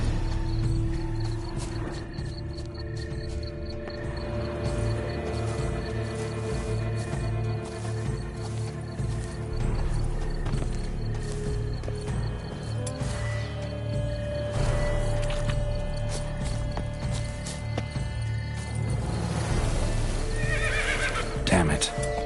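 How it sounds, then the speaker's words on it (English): A horse neighs and whinnies repeatedly in The Witcher 3 video game, with hoof clip-clops and game ambience, while a voice speaks over the scene. "Should like that like any other damn horse."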